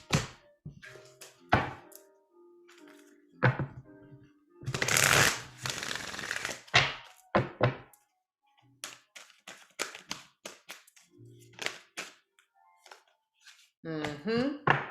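Tarot cards are shuffled in several short riffling bursts close to the microphone, separated by taps and thumps, with a person talking between them.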